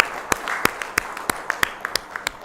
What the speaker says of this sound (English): Applause to our speakers.